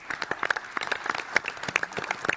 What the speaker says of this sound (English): So give your applause for this team.